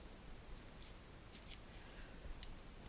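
Scissors handled while unboxing a craft subscription box, giving a run of light metallic clicks and snips, fairly close and quiet, with no voice over them.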